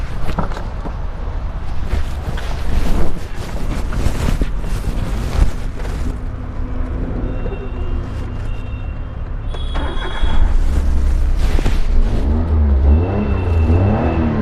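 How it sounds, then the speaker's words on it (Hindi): A 2012 Maruti Suzuki Alto 800 engine runs steadily throughout, a low rumble with some louder surges, ending in a rougher, throbbing idle. "तो ये दोस्तों इंजन का साउंड है"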